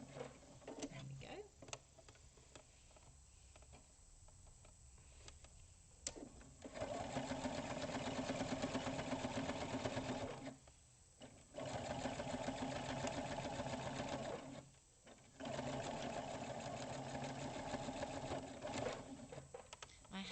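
Domestic sewing machine with an ordinary needle topstitching fabric for cathedral windows patchwork, running in steady whirring bursts of several seconds separated by brief pauses, close and fairly quiet.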